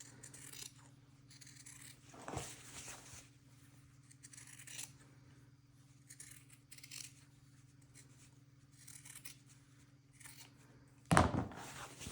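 Scissors snip through the fabric seam allowance of a sewn vest pocket, a few short crisp cuts spread across a quiet room with a steady low hum beneath and a louder metallic clatter near the end.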